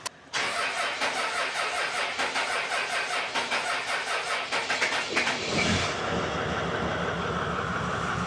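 The engine of a vehicle called 'the 80' cranks repeatedly with a rapid, rhythmic churning while trying to start, then shifts near the end into a steadier, rougher running drone, loud and close.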